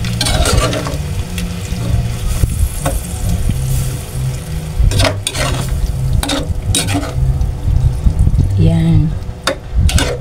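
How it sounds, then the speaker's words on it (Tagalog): Coconut milk being stirred into a pan of Bicol Express, with a steady sizzle and the repeated scrape of a spoon against the pot, loud and close throughout. "Haluin lang po natin."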